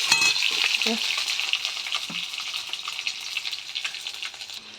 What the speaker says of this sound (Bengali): আমার পেঁয়াজ কাঁচা লঙ্কা রসুন কালো জিরে ভাজা হয়ে গেছে